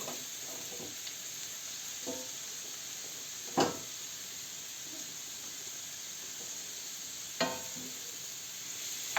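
Steady, quiet sizzling of beetroot frying in a pan, with a few sharp scrapes of stirring breaking through now and then.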